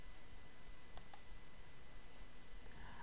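Two quick, faint computer mouse clicks in close succession over a quiet background hum, heard while working through Windows 10 System Restore on a PC.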